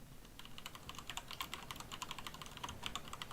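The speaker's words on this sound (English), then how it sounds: "I was just typing" Rapid clicking of keys on a computer keyboard, a quick, uneven patter of taps at moderate distance, fairly quiet over faint room noise, with no talk.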